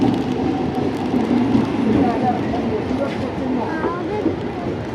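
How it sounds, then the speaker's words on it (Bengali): A train pulls into a station with a steady rumbling roar of rail cars, heard amid crowd noise and people talking nearby on the platform. "মামা ওদিকে ট্রেন ঢুকে গেছে"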